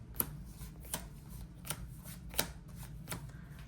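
A deck of Yu-Gi-Oh cards is shuffled by hand, with about five sharp riffling bursts at a steady rhythm over a low, quiet background, close and fairly soft.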